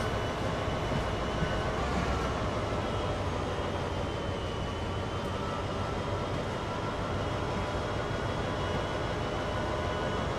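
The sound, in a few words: train running in a video game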